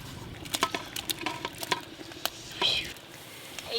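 Fried vegetables tipped into a pot of khichuri and stirred, giving soft wet pattering and scraping clicks in an uneven rhythm, close and fairly quiet, with a brief louder hiss of sizzling partway through.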